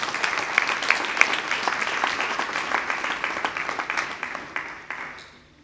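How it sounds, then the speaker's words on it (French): An audience at a stage show in Kinshasa applauds with dense, even clapping that holds for several seconds, then thins out and fades away at the close. "Nous venons applaudir pour notre participation."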